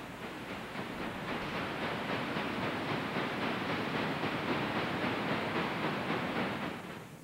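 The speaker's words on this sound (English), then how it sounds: "Another C16, number 280, heads out with a work train in tow." A Chesapeake and Ohio C16 steam locomotive hauling a work train rumbles steadily past with a dense, rhythmic clatter of wheels, loud and close throughout, fading slightly at the end.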